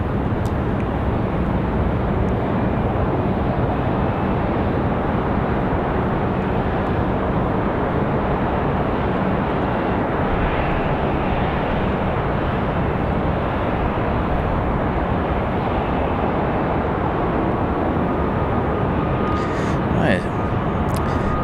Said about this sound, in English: Got a Southwest about to come across your screen there.